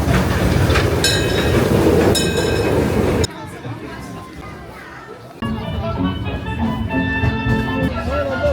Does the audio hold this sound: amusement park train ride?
yes